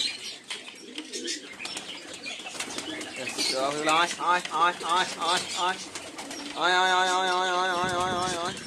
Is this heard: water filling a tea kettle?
no